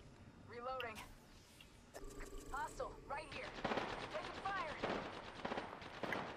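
Gunfire in Apex Legends crackles in rapid automatic bursts and scattered shots, growing denser midway, with game voice lines and chatter over the shooting.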